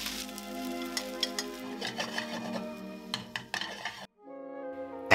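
Egg, onions, cooked rice and vegetables frying in a wok, a steady sizzle broken by clinks and scrapes of utensils against the pan, then a brief drop to quiet before a final clatter.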